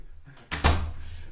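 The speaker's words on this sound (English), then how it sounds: "The door opened." A door swinging open in a gust of wind, a short rising creak followed by a broad, fairly loud whoosh and rattle up close, tailing off into a low windy rumble.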